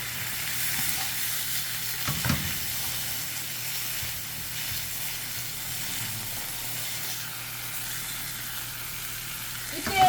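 Pad thai noodles stir-frying in a pan with sauce, giving a steady close sizzle and hiss with occasional stirring scrapes throughout, a brief louder clatter near the end.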